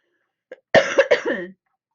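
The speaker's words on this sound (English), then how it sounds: "Pardon my coughing." A short cough, then a quick burst of three or four harsh coughs close to the mic, with quiet before and after.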